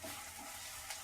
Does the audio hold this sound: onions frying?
yes